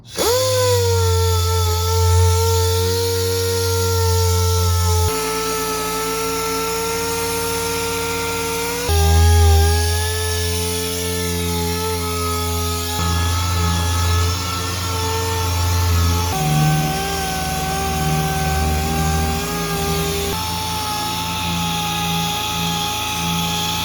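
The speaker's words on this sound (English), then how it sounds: "that DA put in work, man. I did drop down to the 120 grit on the DA just to speed it up" A dual-action sander with 120-grit paper works a bare aluminum car body, giving a loud, steady mechanical whine that shifts pitch every few seconds as the pressure or pass changes. Nobody speaks.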